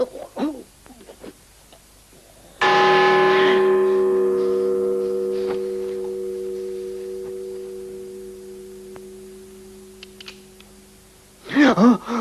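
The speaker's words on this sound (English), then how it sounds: "Ring the bell." A single deep church bell strike rings out and hums with a long, slowly fading tone that lingers for several seconds before dying away.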